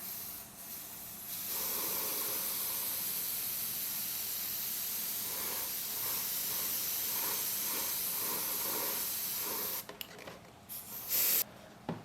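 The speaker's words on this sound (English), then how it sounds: "I'm going to go ahead and spray some black on everything." An aerosol can spraying black paint onto a polycarbonate RC car body hisses in one long continuous burst, then sputters in a few short, broken sprays before stopping.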